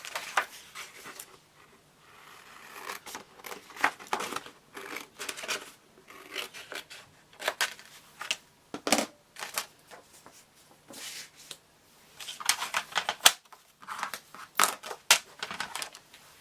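Scissors snipping paper for a mini album cover, a series of close, quiet crisp cuts and rustles in short bursts separated by brief pauses.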